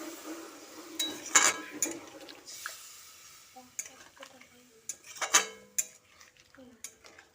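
Pumpkin curry with added hot water is stirred in a pot for a Bengali vegetarian dish: scattered metallic clinks and scrapes of a spoon against the pot over faint simmering, with quiet gaps between strokes.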